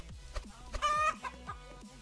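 A chicken clucks in a Roblox egg-farming game: a few short, rhythmic clucks, clear and moderately quiet, with a brief louder squawk in the middle and no speech.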